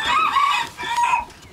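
A young rooster crows at dawn, around 5 a.m., on a farm, two long drawn-out calls close by and loud, with faint clucking from fowl and no talk.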